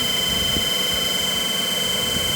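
A DC machine running in a lab: a steady, even motor hum with a constant high whine that holds without change for the whole short stretch.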